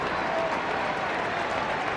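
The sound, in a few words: crowd cheering at hurling match as Tommy Walsh is substituted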